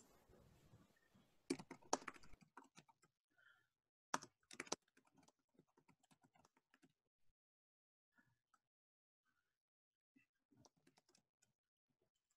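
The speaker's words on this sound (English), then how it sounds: "I'm typing away" Someone types on a computer keyboard, first in quick bursts of clattering keystrokes, then in sparser, quieter taps and pauses, with no talk.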